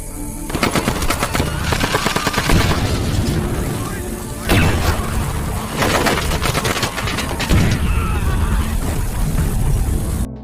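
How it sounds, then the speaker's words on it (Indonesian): Loud bursts of rapid machine-gun fire and booming gunshots, cinematic and intense, with short pauses between volleys and voices buried underneath. "baku tembak kembali meledak"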